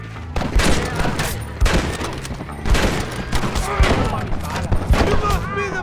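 Gunfire from the Western video game Red Dead Redemption, several loud bursts of shots at roughly one-second intervals, mixed with game music and shouting voices.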